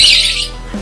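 A male caged songbird gives a single sharp, loud squawk-like chirp up close, fading quickly into quiet.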